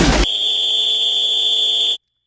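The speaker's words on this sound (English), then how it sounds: "Start on the whistle and on the buzzer." A loud, steady electronic buzzer sounds for nearly two seconds at a college basketball event, following a brief burst of noise at the start, then cuts off sharply into silence.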